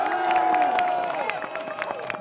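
Crowd at a French farmers' rally applauding and cheering, with scattered whoops and clapping over a steady roar that fades slightly toward the end; some voices shout within the crowd.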